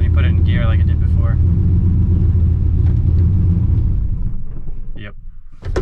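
Turbocharged Chevrolet Silverado engine running with Holley EFI, a loud deep rumble idling as it is put into gear, with someone speaking over it.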